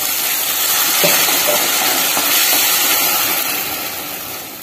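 Tomato paste from two blended tomatoes, with ginger garlic paste, sautéing in hot oil for a South Indian egg curry gives a steady, loud broadband sizzling hiss throughout, with a few faint clicks and no voices.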